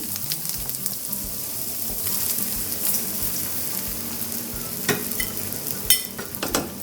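Sabudana being stirred into fried, spiced potatoes in a hot pan: steady sizzling with repeated scraping strokes of a spoon, a few sharper clinks toward the end, close and fairly loud.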